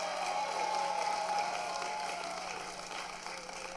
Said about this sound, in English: a big round of applause to family and friends in the stadium